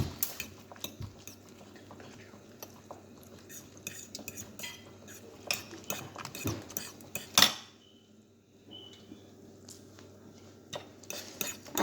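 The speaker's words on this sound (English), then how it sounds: "I'm going to be mixing everything up together" Scrambled egg and vegetables are stirred in a bowl, giving quiet scraping and clinking of a utensil against the dish in irregular taps and a few sharper knocks, close but soft, with no talking.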